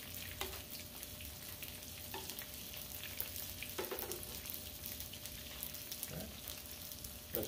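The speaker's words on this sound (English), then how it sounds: "Alright, so they've been frying on the other side for a little bit." Buffalo chicken egg rolls fry in hot oil with a continuous, even crackling sizzle, steady and close, with a few faint clicks and taps and no talking.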